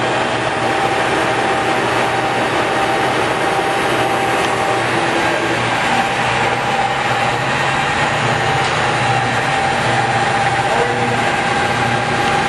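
Cincinnati No. 3 HD horizontal milling machine running steadily at 280 RPM, a continuous loud mechanical hum and whine with a steady tonal drone, no talking.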